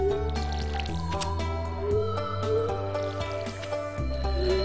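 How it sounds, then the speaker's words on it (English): A watering can waters crops in the farming game Stardew Valley, giving soft squishy splashing and dripping effects over steady game music, with no speech. "I need to water the plants."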